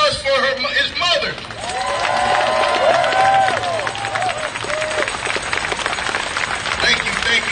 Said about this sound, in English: Can we get a round of applause for his mother?